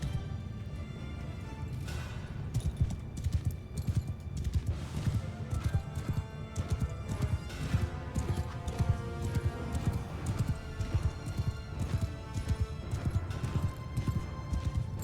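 Horse archers galloping in Mount & Blade II Bannerlord, dense overlapping hoofbeats drumming continuously over a full battlefield ambience with distant clashes and no speech.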